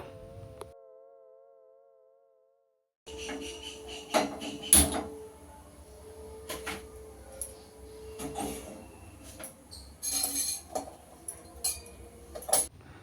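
Utensils clinking in a home kitchen while tea is made: scattered light clinks, taps and knocks, fairly faint and close, starting after a short hush and continuing irregularly.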